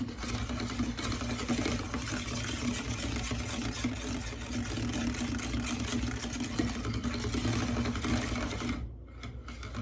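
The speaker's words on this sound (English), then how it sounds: "And then I'm going to start stirring with the stick blender." A stick blender whirs steadily through soap batter mixed with lye, a close continuous mechanical buzz that runs unbroken for several seconds and then cuts off abruptly near the end.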